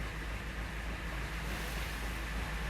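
Steady rushing of a strong sea current and gusting wind roar together without a break, a broad, continuous wash of rough sea noise buffeting the microphone.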